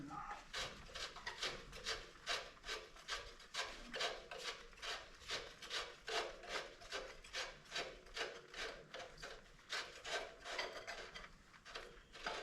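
A big screwdriver grinds in steady, repeated rasping turns against a slotted plug in the drag link assembly of a 1928 Allis Chalmers 20-35 tractor, close and rhythmic without speech.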